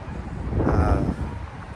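Low, rumbling wind buffeting the microphone outdoors near Clovis in a steady swell, loud and close, with no talking.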